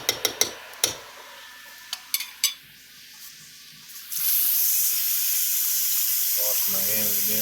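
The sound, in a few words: water running from tap while washing hands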